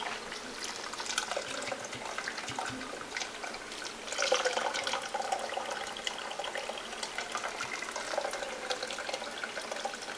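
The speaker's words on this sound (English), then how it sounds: "Just going to pour this water right on top of the grain bag here." Water poured slowly onto a grain bag while sparging homebrew beer makes a soft, steady splashing trickle, fairly quiet and continuous with a brief surge midway.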